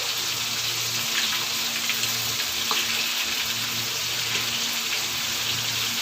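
Chicken skin sizzles loudly and continuously in hot oil in a pan, a dense, even crackle with faint popping throughout and no pauses.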